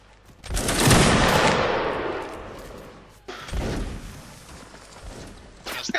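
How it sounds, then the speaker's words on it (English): Musket volley fire in the Mount & Blade video game: a loud, near crash of massed shots that rolls out and decays, followed by a second, slightly weaker volley and a sharp crack at the end, with brief talk around it. "Present. Take aim. Fire."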